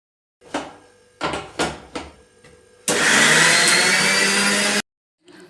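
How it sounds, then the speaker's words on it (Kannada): A kitchen mixer grinder grinding coconut paste roars into a loud, steady whir for about two seconds, after a few short clunks and knocks, then cuts off abruptly. "ಸೊ ಕಾಯಿ ಹಿಂಡಿಗೆ ಎಲ್ಲ ಗ್ರೈಂಡ್ ಮಾಡ್ಕೊಳ್ಳೋಣ ಅಂಥೇಳಿ ಹಾಕ್ಕೊತಾ ಇದ್ದೀನಿ"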